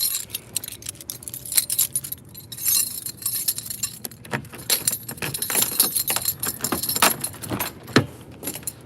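A bunch of keys jangles and clinks in repeated bursts, close and fairly loud, while someone searches around a 1998 Acura Integra; faint background noise sits underneath and no one speaks.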